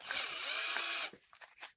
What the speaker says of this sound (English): Let's get all these top screws off here.